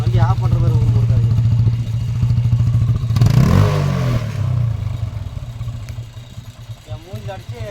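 A TVS Apache motorcycle engine runs close by during chain cleaning, idling with a throbbing pulse and rising in a brief rev in the middle. Clattering sounds and voices talking over it can be heard.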